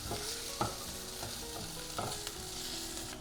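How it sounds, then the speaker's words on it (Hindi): Onions fry in a teaspoon of oil with flavoured butter, a dense close sizzle with light taps and scrapes of a spatula as they are stirred. Nobody talks. "अब हम डालेंगे 1 टीस्पून ऑयल, साथ ही में ऐड करेंगे फ्लेवर्ड बटर, ऐड कर देंगे अनियंस, थोड़ी देर भूनेंगे"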